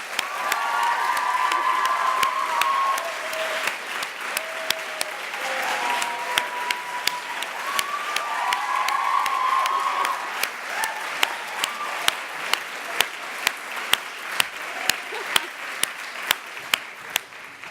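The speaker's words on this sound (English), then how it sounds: "If we could shout, cheer, clap really loudly for AJ, Shanaz will open the door." Loud, sustained applause and cheering from an audience at an annual education lecture, with voices and whoops over dense clapping that thins out into scattered, louder individual claps toward the end.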